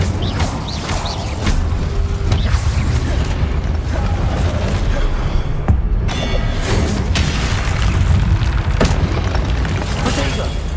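Spellcasting combat in Hogwarts Legacy with the Incendio fire spell, loud continuous booming blasts and crackling bursts layered over one another in a dense battle soundscape, with a voice speaking faintly underneath.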